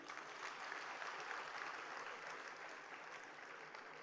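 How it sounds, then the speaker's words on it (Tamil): Audience applause at a birthday celebration for Thirumavalavan, a dense, steady wash of many clapping hands from a large crowd, sustained and even throughout with no voices over it. "நாங்கள் வேண்டுவது கைதட்டு ஒன்றுதான்."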